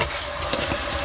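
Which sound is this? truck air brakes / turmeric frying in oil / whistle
turmeric frying in oil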